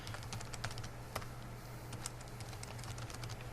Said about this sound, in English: watch my cursor as I type